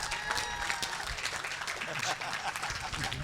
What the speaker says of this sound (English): How about a round of applause for John Hines